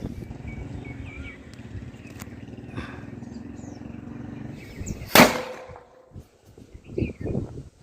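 An Ananda brand Bigili firecracker from Sivakasi explodes outdoors in a single sharp, loud blast after a stretch of low background rumble, and some scattered crackling and noise follow.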